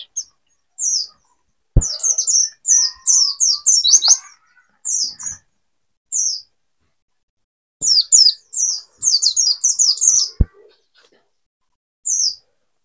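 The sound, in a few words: pleci white-eye bird chirping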